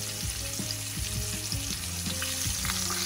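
Artichokes stuffed with meatballs and extra meatballs frying in hot oil, a steady close crackling sizzle with repeated clinks and scrapes of a utensil in the pan.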